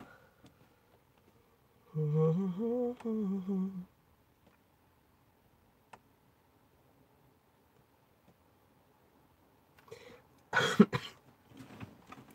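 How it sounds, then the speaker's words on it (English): A harsh burst of coughing from a person close by, a couple of seconds long, then quiet, followed later by a second, sharper coughing fit. "So you'll have to excuse the coughing."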